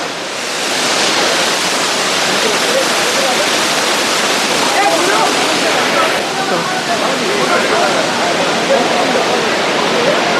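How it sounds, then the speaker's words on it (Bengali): A waterfall near Uluppuni tunnel in Kerala roars as one loud, broad, continuous rush of falling water, steady across the whole stretch, with voices faintly mixed in beneath it. "এখানকার একটা সুন্দর জলপ্রপাত, উপর থেকে পানি একদম নিচে আসছে।"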